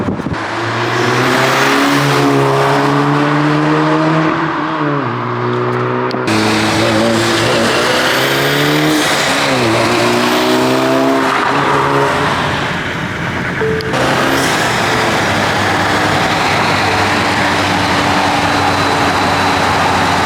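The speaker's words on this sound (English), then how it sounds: "I hope you enjoy those exhaust clips." A Volkswagen Golf R fitted with a Milltek exhaust revs and accelerates loudly and close by, its engine note rising and falling through several pulls, with no talking.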